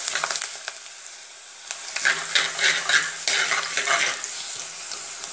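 Ginger and garlic fry in oil over a low flame for a Kottayam-style fish curry, with a soft steady sizzle and repeated scraping, clinking stirs of a spoon against the pan, close and without speech.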